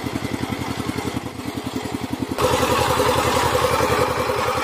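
Tractor engine chugging steadily at a river crossing, a close, loud diesel-like putter with a regular rhythm that grows louder and fuller halfway through as the machine strains.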